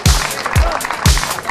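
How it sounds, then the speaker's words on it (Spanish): A crowd applauds the category winners at a rally event, mixed clapping under three strong low thumps, brief and busy at moderate loudness. "Aplauso para ellos"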